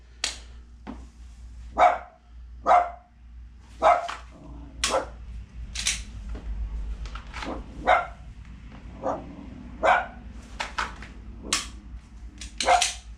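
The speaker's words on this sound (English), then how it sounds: "Sorry, that's my dog again" A dog barks repeatedly nearby, sharp single barks spaced a second or two apart, with a faint low hum beneath.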